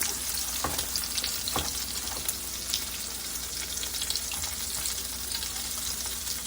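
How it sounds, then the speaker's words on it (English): Salmon patties fry in a pan with a steady, dense sizzle and crackle, with occasional sharper pops, close and continuous throughout. "that will give you 2 to 3 nice salmon patties. So we're going to just let these cook up."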